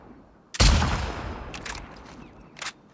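Gunfire in The Last of Us Part 2: one loud, close blast followed by a decaying rumble, then a few fainter scattered shots trailing off, with no voices.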